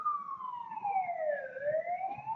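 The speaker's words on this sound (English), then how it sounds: "Sorry about the police siren." A police car siren passes outside, a single long wail sweeping down then rising again, faint and distant over a low background rumble.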